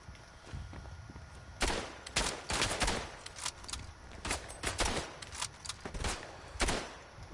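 Gunfire in the First World War shooter Verdun, scattered rifle shots and short volleys cracking at irregular intervals, some close and loud, others farther off.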